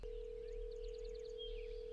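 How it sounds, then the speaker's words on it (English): In the video game Hello Neighbor, a telephone line gives a single steady tone, a sustained electronic hum held for about two seconds, faint and alone, with no voices. "The phone's ringing."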